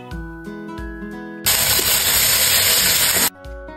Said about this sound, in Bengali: তখন ম্যারিনেট করে রাখা মাংসগুলো দিয়ে দিব